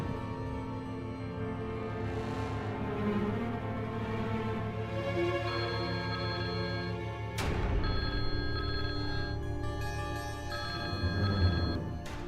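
A telephone rings late at night indoors, a steady, insistent ringing tone that carries on for about twelve seconds, blended with a dense, sustained musical backdrop and no voices.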